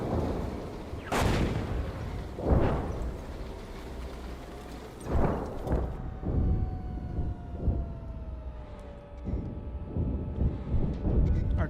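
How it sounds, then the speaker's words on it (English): Artillery fire in a Cold War tank game booms repeatedly as deep, rolling blasts, some near and some more distant, over a low engine drone. "Artillery over there."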